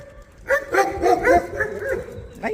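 A big dog on a residential street barks a few times in short bursts at close range, with a person talking over it.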